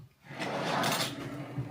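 A rear drawer in a drawer system fitted to a 76-series vehicle slides open with a steady, close rolling rumble lasting over a second, ending in a light knock.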